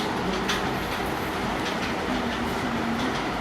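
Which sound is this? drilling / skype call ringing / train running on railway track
train running on railway track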